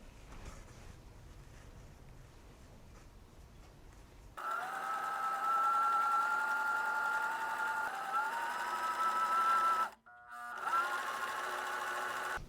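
Sewing machine stitching pajama fabric, a soft handling rustle first, then a steady close mechanical hum with a whining tone that pauses briefly near the end before resuming.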